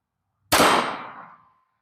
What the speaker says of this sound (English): It rung the steel pretty good.